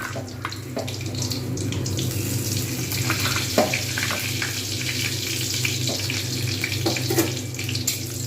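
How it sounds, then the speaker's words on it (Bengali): Cumin seeds, bay leaf and dried chillies tempering in hot oil for a Bengali kohlrabi curry, a steady loud sizzle and crackle running throughout with occasional small pops, no voices. "গোটা জিরে তেজপাতা আর শুকনো লঙ্কা আমি ফোড়ন দেবো"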